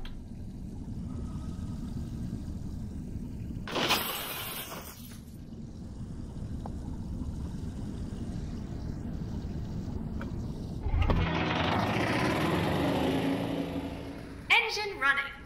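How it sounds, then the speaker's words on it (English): Inside the VR game I Expect You To Die, a vehicle engine hums as a steady low rumble, broken by a few short bright bursts and a rushing wash near the end. "Engine running."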